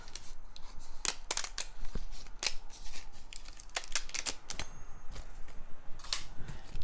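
Die-cut paper is peeled away from an intricate metal cutting die for a card, making a run of crisp papery crackles and ticks in irregular bursts, close and clear, with no talking.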